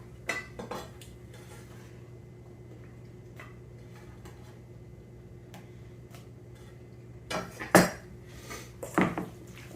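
Pineapple chunks are mixed into pork in a metal bowl, giving scattered utensil clinks and scrapes over a quiet hum, with a few louder clatters near the end.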